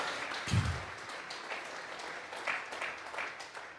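A church congregation claps during a Sunday service, a burst of applause that starts loud and then carries on as a fainter, steady patter of hands.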